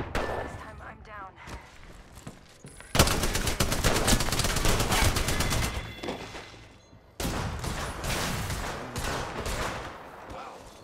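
Automatic weapon fire in the battle royale shooter Apex Legends, playing as Crypto: long sustained bursts of rapid shots with brief pauses, loud and close, broken by a gap before firing resumes.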